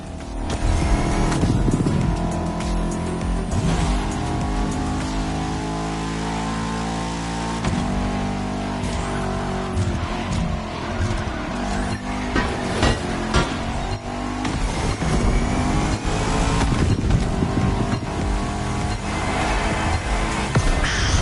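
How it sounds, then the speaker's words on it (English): A Bugatti Veyron driving in the racing game The Crew Motorfest, its engine roaring loud and close, revving up and down through gear changes across the whole stretch, with no talking. "Bugatti Veyron, a masterpiece to this day."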